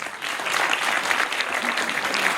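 An audience at a ceremonial event claps together in a dense, even wash of applause that holds steady at a strong level throughout.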